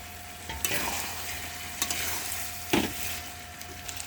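Slit green chillies hit hot oil in a frying pan while cooking a jackfruit and prawn curry with milk, giving a steady sizzle with a few sharper bursts of spitting and stirring scrapes, close and without any voices.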